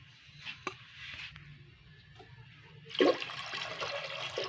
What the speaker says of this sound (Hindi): अब इसके अंदर शामिल करेंगे 2 गिलास पानी।